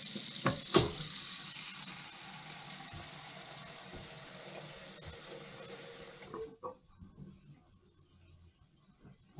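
Water running into a household sink and draining, a steady close hiss that stops abruptly after about six seconds, leaving faint trickles and drips in a quieter room.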